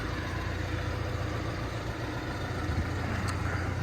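A Basak tractor engine drones steadily as the tractor drives away, a continuous low rumble at moderate level with no talk over it.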